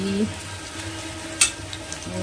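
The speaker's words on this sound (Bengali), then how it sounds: "মাটন হচ্ছে তার জন্য পেঁয়াজ ভাজছি" Onions fry in a pan of oil for a mutton curry, giving a low steady sizzle with one brief sharp clink of a utensil midway; faint voices murmur in the background.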